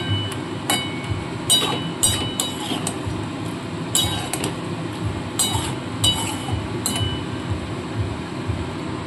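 Macaroni pasta is stirred with pasta water in a pan, with a spoon clinking and scraping against the metal in an irregular rhythm over a low steady background hum.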